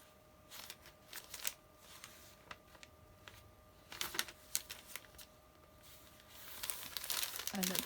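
Coffee-dyed glassine paper in a vintage-style junk journal being handled and turned, giving soft crinkling and rustling bursts under a person talking, growing louder and busier toward the end.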